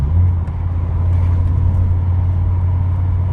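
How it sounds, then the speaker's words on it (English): An Audi RS6 V10 engine with a diesel-injector-like noise runs at a steady, loud, low drone with a faint ticking texture and no voices. "It sounds to me like injector diesel"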